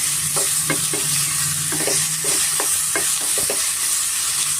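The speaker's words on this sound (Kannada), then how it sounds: "ಅದನ್ನು ಸ್ವಲ್ಪ ಎಣ್ಣೆನಲ್ಲಿ ನಾವು ಚೆನ್ನಾಗಿ ಫ್ರೈ ಮಾಡ್ಕೊಬೇಕಾಗುತ್ತೆ" Tomatoes fry in oil in a pan for hesaru kalu sambar, giving a steady, loud sizzle with a regular run of close scraping stirring strokes on top.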